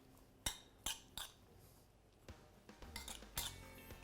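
Pico de gallo with fresh lime juice being stirred in a bowl, giving a few sharp utensil clinks and scrapes against the dish at intervals, close and fairly quiet with no talking.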